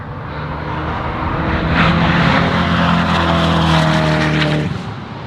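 A McLaren Senna supercar passes on a private racetrack, its engine note rising loud as it approaches, holding a high strained whine for several seconds, then fading away.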